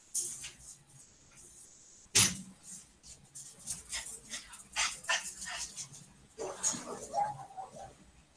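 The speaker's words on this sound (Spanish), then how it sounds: "Tengo un perrito Yorkie, pero es latosísimo, condenado." A Yorkshire terrier barks several times indoors, with sharp yips and whimpers scattered through a background of talk, one bark standing out loud and close.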